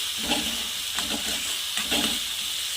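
Tomato chutney is stirred in a hot pan, with a steady sizzle broken by several rhythmic scraping strokes of the spoon, close and moderately loud, without talking.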